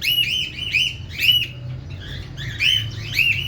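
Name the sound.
cockatiels making noise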